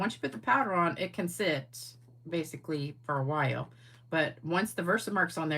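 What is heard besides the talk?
None of the usual background noises is heard.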